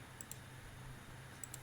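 Faint computer mouse clicks in architectural design software, two quick double clicks near the start and two more near the end over a quiet room hiss.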